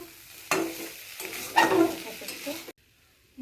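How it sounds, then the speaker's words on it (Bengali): Vegetable stalks cooked with mustard fry in a pan, giving a steady close sizzle with stirring scrapes for about two seconds before it cuts to near silence. "ডাঁটাটা ভাজা হয়ে গেছে, ডাঁটাটা নামিয়ে দেবো।"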